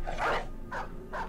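A dog in the video game Battle Brothers barks three times in quick succession, close and fairly loud, with short gaps between the yelps.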